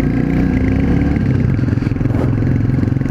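A Royal Enfield Classic 350 motorcycle being ridden, its single-cylinder engine thumping steadily and loudly up close at a constant pace, with slight mechanical clatter and no talking.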